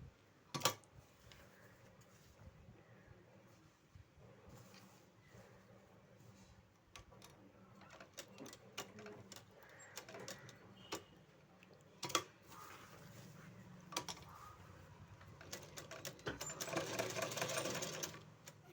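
A sewing machine stitching a zip onto a churidar runs in quick ticking bursts with short pauses between runs, close and fairly quiet, with no speech.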